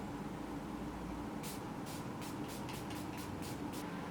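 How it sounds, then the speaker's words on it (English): Several quick hissing bursts of Milani Make It Last makeup setting spray sound up close in a rapid series, over a steady background hum. "So I'm using this Milani Make It Last setting spray."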